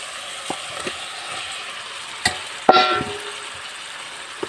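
Koi fish dropped into spiced, oil-glossed masala in a pan: a quiet background frying hiss, then a sudden louder sizzle burst as the fish goes in, tapering off over a second or so.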